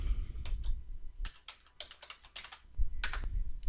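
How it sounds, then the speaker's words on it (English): Typing on a computer keyboard, with close, irregular clusters of key clicks and a few pauses between bursts. "just type it in there and hit enter"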